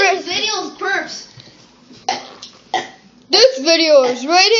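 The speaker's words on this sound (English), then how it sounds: "This video's burps." A child burps several times in a row, loud and close, short guttural bursts with pauses between them, followed by a longer drawn-out belch with a wavering pitch.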